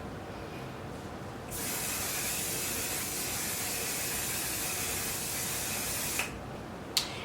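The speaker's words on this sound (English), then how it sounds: "I'm gonna spray my face with the One Size setting spray." A continuous aerosol spray of One Size setting spray onto a face hisses steadily for several seconds, then stops, followed by a couple of small clicks.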